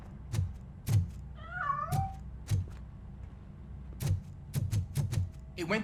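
In the video game Robocop: Rogue City, a cat meows once in a drawn-out, wavering cry amid a series of soft thumps and taps scattered through the scene.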